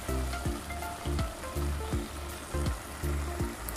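Sinanglaw ingredients sizzle loudly in a pan, with a spoon or spatula scraping and stirring in a steady rhythm of about one stroke every half second, close and continuous.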